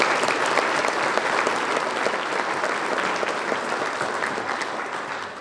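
Audience at the Cheyenne Chamber Military May luncheon applauds its sponsors, a steady, dense clapping from a room full of people that holds even throughout and tapers slightly at the end.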